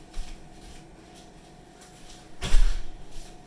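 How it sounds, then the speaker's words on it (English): A room door swings shut with one loud, close thud midway through, set against a quiet indoor background with light rustling earlier. "I'm gonna close the door because he won't stop."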